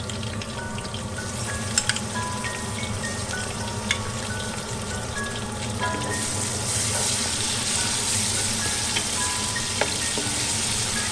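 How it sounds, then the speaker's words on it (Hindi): Ginger, garlic and green chili fry in a pan for a meatball curry (kofta salan), giving a steady, close sizzle with light stirring clicks that grows slightly fuller partway through, with no talk. "एक से 2 मिनट अदरक, लहसुन और हरी मिर्च को मैं इसके अंदर फ्राई करूंगी"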